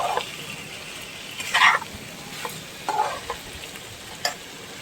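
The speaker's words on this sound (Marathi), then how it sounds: "आणि आता हे याच्यामध्ये टॉस करायचं सगळं" Mixed vegetables are tossed in a pan with salt, soy sauce and red chili sauce for veg Manchurian. Soft sizzling sits under a few scattered scrapes and clatters from the tossing.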